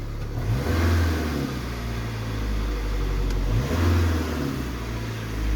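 A car engine runs with the engine coolant temperature switch unplugged, a close, steady mid-pitched drone that swells in two gentle revving surges, with no talk over it.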